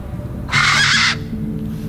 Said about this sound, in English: My god, another bird in the way.